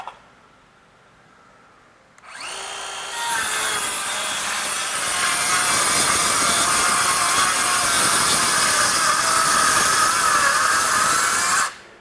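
DeWalt 12V DCS512B cordless circular saw spins up and cuts through knotty wood, a loud, strained whining buzz that holds steady for about nine seconds before stopping.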